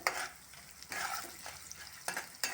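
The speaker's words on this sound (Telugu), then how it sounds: "జీలకర్ర 1 స్పూను మాడకుండా ఫ్రై చేసుకోవాలి." Cumin seeds fry in a pan on low heat, a soft crackling sizzle broken by several brief scraping stirs at irregular intervals, close and fairly quiet with no voices.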